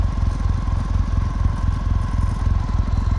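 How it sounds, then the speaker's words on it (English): A Kawasaki W800 motorcycle engine idles slightly high, a steady, close, rhythmic low thrum with even pulses throughout and no talking. "This bike can idle a little bit high."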